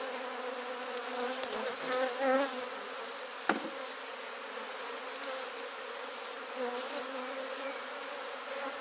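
Dense swarm of honeybees buzzing loudly and continuously as they are shaken from the hive during honey harvest, a steady droning hum with a sharp knock partway through.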